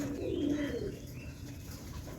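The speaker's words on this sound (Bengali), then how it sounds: "এখানে কিছু পায়রা খাবার খেতে এসছে" Soft, low cooing of pigeons feeding at a mini zoo in a short burst early on, then fading into a murmur of background bird sounds.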